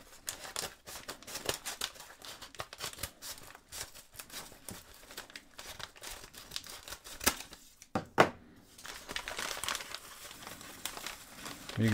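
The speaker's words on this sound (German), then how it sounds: "Werden wir den Umschlag mal aufschneiden." A padded shipping envelope holding bubble wrap is cut open for a fountain pen unboxing, with quiet crinkling, rustling and snipping throughout and a sharper tearing burst near the end, recorded close and alone.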